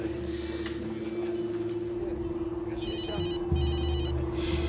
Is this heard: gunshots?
no